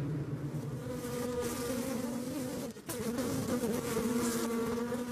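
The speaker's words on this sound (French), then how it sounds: "Les abeilles s'agitent, deviennent nerveuses, et vous pouvez analyser ce comportement grâce au son que fait la colonie dans la ruche." A dense, continuous buzzing of a disturbed honeybee colony inside a hive, loud and close, with a droning hum that briefly dips before resuming.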